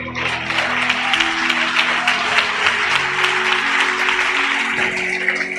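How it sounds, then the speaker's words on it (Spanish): A church congregation applauds during a sermon, steady crowd clapping close and fairly loud, mixed with sustained music. "Dale un aplauso al Señor."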